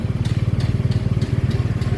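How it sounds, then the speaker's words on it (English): Small three-wheeled motorcycle taxi engine thrumming steadily up close while riding, a fast, even low-pitched pulse with a faint ticking clatter on top, no voices. "Here we are going on a three-wheeler, I guess, I don't know whether you call it a tuk-tuk or motorcycle"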